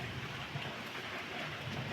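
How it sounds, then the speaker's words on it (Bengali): Light rain pattering beside a pond, a soft, even hiss of drops that holds steady and fairly faint for the whole stretch. "বৃষ্টিটা আসতে হয়ে গেছে এখন"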